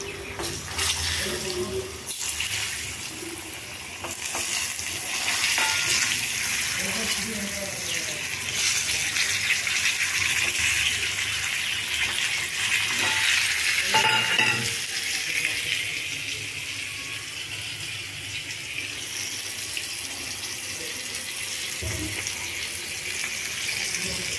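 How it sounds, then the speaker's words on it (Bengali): Potato pieces are added to a pan and cooked while a chicken kosa is being prepared, giving a steady, continuous wash of hiss and sizzle with a few scraping sounds and no voices. "তারপর আমি আলু টুকরোগুলো এখানে দিয়ে দিচ্ছি।"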